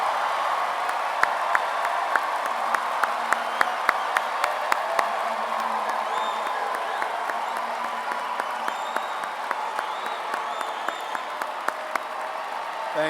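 A commencement crowd at a North Carolina A&T State University graduation applauds the graduates' families, a dense, sustained wash of clapping from many hands with scattered sharper claps standing out, steady throughout.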